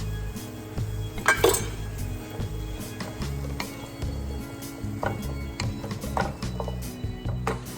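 Carrots and asparagus tipped into a pan of cooking chicken in a home kitchen: soft clatters and light clinks of utensils against the pan over a low steady hum, close and fairly quiet.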